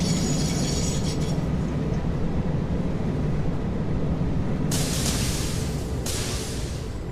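A train with a steady, heavy mechanical rumble and clatter throughout, joined midway by a couple of sharp bright hissing bursts, with no voices.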